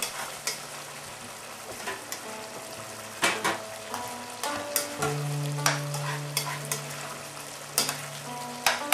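A spoon stirs cornstarch through boiling ma po tofu sauce, giving soft bubbling and sizzling under repeated scrapes and clinks against the pan, with a steady low hum running underneath.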